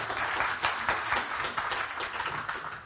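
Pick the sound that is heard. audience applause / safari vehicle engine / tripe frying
audience applause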